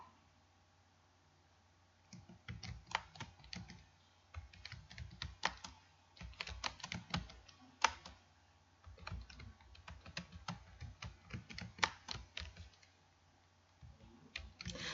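Typing on a computer keyboard while entering text in a PowerPoint exam exercise, with quick irregular runs of key clicks in bursts and short pauses, close and fairly quiet, no talk.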